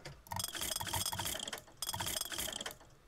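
A machine in the video game Bioshock Infinite turning with a clicking, ratcheting gear mechanism, heard in two rattling runs separated by a short pause.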